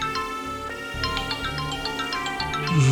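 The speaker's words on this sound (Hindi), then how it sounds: "किसका फोन है?" A phone ringtone plays a bright, repeating melodic tune over a low background hum, steady and fairly close, with no one speaking over it.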